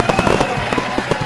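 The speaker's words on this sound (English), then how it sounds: "Boom! Fireworks for our winner." Fireworks sound effect celebrating a puzzle winner: a dense run of sharp pops and crackling bursts, loud and continuous for about a second, with no voice over it.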